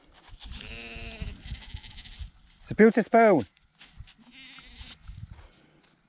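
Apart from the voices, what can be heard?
sheep bleating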